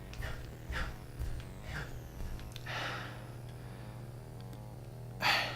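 A man imitates heavy, out-of-breath breathing, as if just back from a long run: a few hoarse, gasping breath bursts spread across several seconds, with a final loud exhale, over a steady low hum and no talk.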